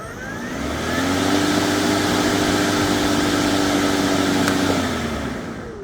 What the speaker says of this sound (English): let's go ahead and listen to the motor.